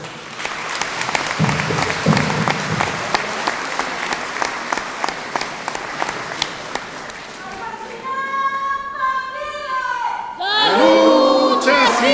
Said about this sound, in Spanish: Y un aplauso en su memoria, por favor.